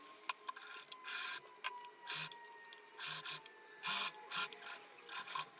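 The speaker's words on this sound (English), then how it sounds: "I sew respecting 1 centimeter of seam allowance." A seam of a dress being sewn, with quiet mechanical whirring in short repeated bursts and brief pauses between stitching runs.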